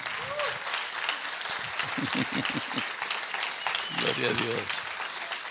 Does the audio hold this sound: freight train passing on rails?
no